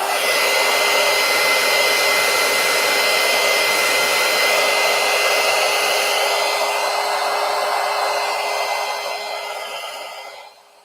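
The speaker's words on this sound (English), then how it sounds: "I'm going to hit up the heat gun and put another coat on it." A heat gun blows steadily over a fresh painted coat on a handmade file folder holder, a loud, even whoosh that holds for about ten seconds before tapering off at the end.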